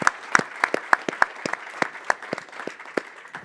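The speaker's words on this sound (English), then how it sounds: "please join me in giving them a round of applause" Audience at a Think2030 conference in Cyprus applauds panelists, a close, steady patter of individual claps with sharp peaks from nearby hands, no voices over it.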